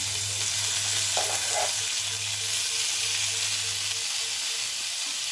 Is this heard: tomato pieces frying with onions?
yes